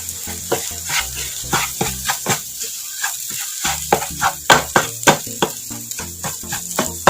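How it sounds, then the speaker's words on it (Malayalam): Fish curry masala sautés in hot oil, a constant sizzle broken by repeated scraping stirs of a spoon in the pan in a loose, steady rhythm, close and clear. "ഒരു 2 മിനിറ്റ് ഇങ്ങനെ വഴറ്റുക"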